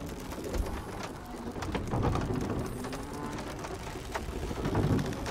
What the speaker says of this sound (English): I hear that damn raven somewhere